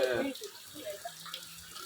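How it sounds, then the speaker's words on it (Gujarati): Steady hiss of heavy rain with a faint voice near the start, continuing softly throughout. "જો વરસાદ ચાલુ છે, કયુંનો ચાલુ થઈ ગયો છે વરસાદ"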